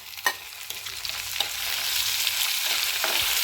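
Shallots and tomato sautéing in a pan for a kilimeen fish curry, loud crackling sizzle with several sharp scrapes and clicks of a spoon stirring, no voices.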